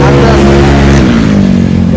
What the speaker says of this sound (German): gibt es auch Roller mit aufgeführten Auspuff